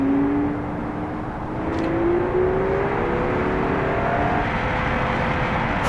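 Car engine in a driving video game, revving and climbing in pitch after a shift into fourth gear, a loud steady drone with rising tonal whine, no talking.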